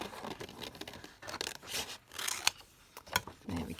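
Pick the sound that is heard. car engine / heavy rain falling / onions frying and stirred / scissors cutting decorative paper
scissors cutting decorative paper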